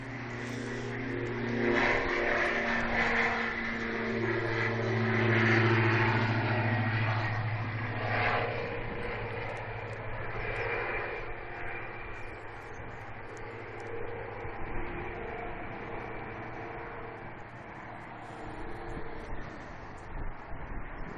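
An aircraft takes off at Manchester Airport with a sustained rumbling engine roar. The roar swells to a peak, then slowly fades as the plane moves away.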